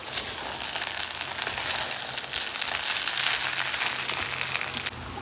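Loud, dense sizzling of cooked meat frying in a pot as raisins and dried plums are added, with a steady crackling hiss that drops away near the end.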